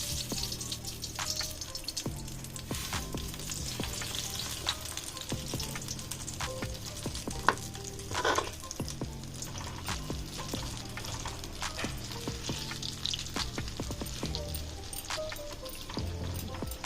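Dibba rotti batter frying on low heat in plenty of oil in a deep pan, a close, steady crackle and bubbling with frequent sharp pops and a brief louder spatter midway.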